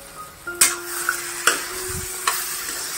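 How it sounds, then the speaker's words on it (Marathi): Drumsticks and mixed vegetables are stirred in a spice mix in a pan, giving a quiet steady sizzle broken by a few sharp spoon knocks against the pan's edge. "या मसाल्यात व्यवस्थित कालवून घ्यायचे, परतून घ्यायचे."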